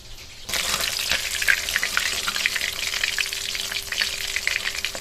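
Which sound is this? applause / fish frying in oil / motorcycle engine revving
fish frying in oil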